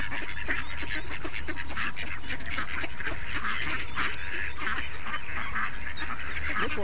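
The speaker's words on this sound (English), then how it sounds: "How many ducks are down here?" Ducks quacking steadily, a crowd of calls overlapping throughout, close and fairly loud, no voices over them.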